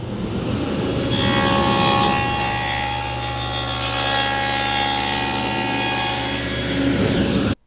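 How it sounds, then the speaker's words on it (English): A table saw fitted with a dado set spins up and cuts a dado through wood for a nightstand shelf, a steady loud whine and grinding rasp for about six seconds before winding down, with no talking. "let's go ahead and make our next cut with our dado set"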